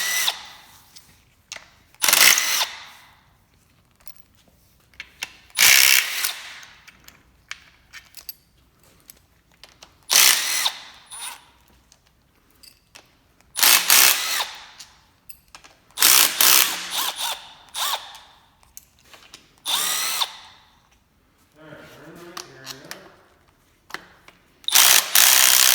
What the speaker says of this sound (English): he's going to move it around the valve cover to take out the rest of the 10mm bolts that hold it down